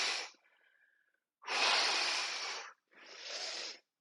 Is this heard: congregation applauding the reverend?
no